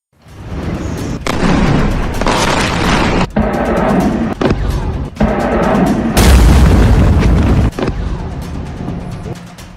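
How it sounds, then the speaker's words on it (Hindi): Bombs falling on Iranian cities near the Strait of Hormuz send out a loud, sustained roar of blasts, with several sharp booms cutting through the continuous rumble. "हॉर्मुज के आसपास के ईरान के शहरों पर बम गिर रहे हैं"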